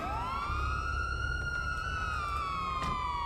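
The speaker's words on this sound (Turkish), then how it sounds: "Sirenleri iner inmez kapatmaları lazım." A police car siren wails through a GTA V FiveM roleplay game, a loud, steady electronic tone that sweeps upward and then holds, sounding alone for the whole stretch.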